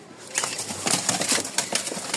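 Pigeons from a high-flying tumbler breed flap their wings in rapid, irregular bursts close by, with some soft bird noise and no talking.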